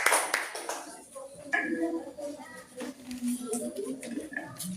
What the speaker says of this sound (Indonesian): Berikan tepuk tangan buat Ibu Lina.